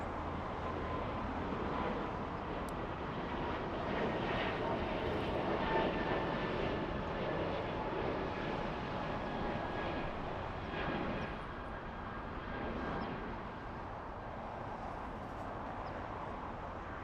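An American Airlines airliner in Trans-Canada Airlines heritage livery, bound for Toronto, gives a steady broadband jet roar that holds loud and even for the whole stretch, with faint engine whine tones running through it.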